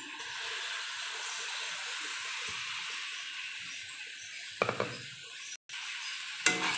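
Soaked moong dal sautés in a pan, a steady hissing sizzle with soft stirring scrapes, close and moderate, briefly interrupted by a short gap and a couple of sharper clatters near the end, no talking.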